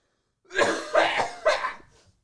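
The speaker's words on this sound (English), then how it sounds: "I'm going to cough, and it's going to be a gnarly one" Three harsh, raspy coughs in quick succession, close and loud, then silence.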